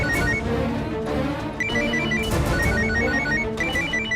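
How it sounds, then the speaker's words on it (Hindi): A phone rings loudly with a repeating melodic ringtone, its notes cycling in a steady rhythm over a dense musical background with no talking. "फोन उठा लो, हो सकता है दामाद जी का फोन हो।"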